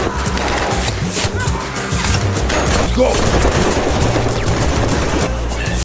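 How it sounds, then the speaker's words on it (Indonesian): Rapid gunfire from an action scene in the film Vigilante, a dense, sustained barrage of shots under a narrator's voice, loud and continuous throughout. "Ia pun menembakinya, namun peluru tidak ada yang bisa ditembus"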